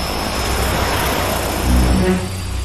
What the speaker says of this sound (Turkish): Uçak indi.